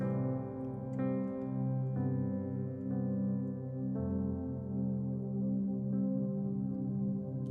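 A sustained keyboard pad drone for modern worship music holds steady while chords change roughly every second on top, smooth and continuous with no voices.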